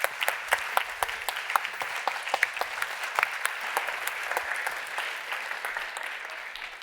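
Applause from a summit audience for an award winner, dense clapping from many hands that stays steady and fairly close, then tapers slightly toward the end.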